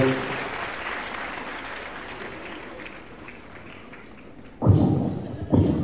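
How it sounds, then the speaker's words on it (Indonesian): Audience applause at an Indonesian comedy event, a broad clapping wash that fades gradually over several seconds, followed by a couple of abrupt, loud bursts of noise near the end. "Kita beri tepuk tangan buat Prof. Mahfud"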